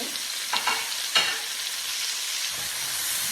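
Onions frying in a pan, a loud steady hiss and sizzle with a few brief stirring scrapes near the start, close and continuous with no talk.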